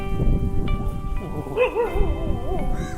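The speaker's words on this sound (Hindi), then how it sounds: "किसको भौंक रहा है?" A dog barks and yips with whining, wavering cries, fairly close, over a noisy university campus background with some voices.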